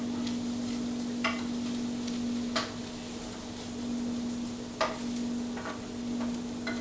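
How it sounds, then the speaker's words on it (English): Garlic sautéing in a hot pan for chicken liver, a steady soft sizzle with a constant low hum beneath and a few sharp stirring clinks of a utensil against the pan. "Just straight saute, on the heat"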